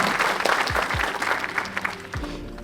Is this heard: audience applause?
yes